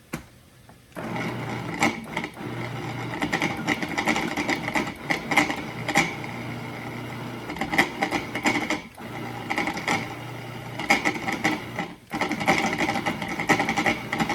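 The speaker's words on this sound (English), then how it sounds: "then the vegetables, we just grind it up" A food processor grinds mushrooms and vegetables finely for a spicy three-bean vegetarian dish, a close whirring motor hum pulsing on and off in short bursts with no speech over it.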